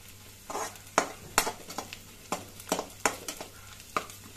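Onions fry in a pan for a chicken gravy, stirred with a utensil in a run of sharp, repeated scrapes and clacks over a soft sizzle, close and alone.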